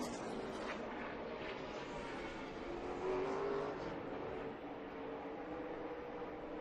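NASCAR Xfinity race car, Ty Majeski's black number 60 Roush entry, running laps during practice at Kentucky; a steady engine roar fills the track air, swelling slightly midway as it passes.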